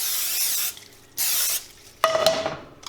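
Two short bursts of cooking oil spray hiss out onto a hot non-stick pan, followed by a sizzle and clatter as something hits the pan.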